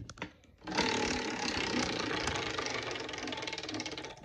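A spinning prize wheel clatters in a fast, steady stream of ratchet-like clicks that start abruptly and keep going at a close, even level for several seconds.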